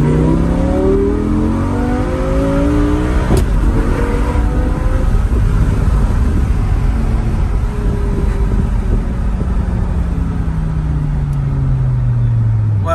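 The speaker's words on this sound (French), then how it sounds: "c'est l'échappement Miltech, je trouve, il sonne pas très fort." A Maserati GranTurismo with a Miltech exhaust accelerates uphill, its loud engine note climbing steadily for many seconds over road and wind noise, with no one talking.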